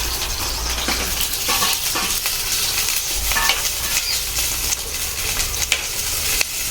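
Onions fry in coconut oil in a pan, a dense close sizzle with repeated scraping as a spoon stirs them, no voices over it.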